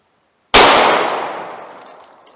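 A single sharp gunshot from a revolver firing Buffalo Bore .38 Special +P 125 grain ammunition at an outdoor range, loud and close, with a bright crack and a long decaying echo.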